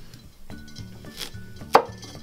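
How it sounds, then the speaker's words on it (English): Knife cutting the ends off a green plantain, a few soft chops on a board, then a sharp, crisp cut-through near the end, close up and without speech. "I'm just going to cut the ends off of this"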